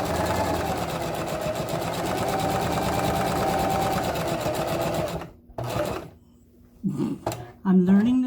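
A Singer sewing machine stitches a handbag in a steady, close whir for about five seconds, then stops; handling clicks and a voice follow in the quieter ending.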